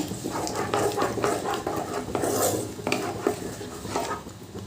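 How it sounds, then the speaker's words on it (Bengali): Spice paste and whisked sour yogurt being sautéed in a pan for an elephant foot yam kofta curry, with a spatula scraping and stirring in steady, repeated strokes and soft clinks of metal on the pan, fairly close. "এবার আমি ফেটিয়ে রাখা টক দইটা দিয়ে দিলাম দিয়ে আবারও ভালো করে কষিয়ে নেব"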